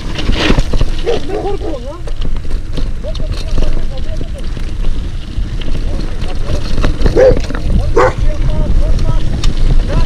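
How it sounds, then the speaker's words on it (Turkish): A dog barks several times in short bursts, chasing mountain bikers on a ride near Muğla, over loud rushing wind noise, with people talking nearby. "Köpek var."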